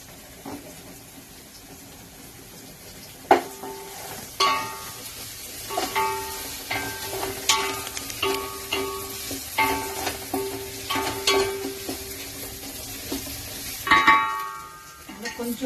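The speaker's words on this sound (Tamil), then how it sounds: "நம்ம போட்ட பச்சை மிளகா வெங்காயம் எல்லாம் நெய்யில் நல்லா கோல்டன் ப்ரௌன் ஆயிடுச்சு." Green chilies and onions frying in ghee in a home kitchen, cooking for peas pulao: a steady close sizzle with repeated rhythmic scraping and stirring clinks of a spoon against the pan, no talking.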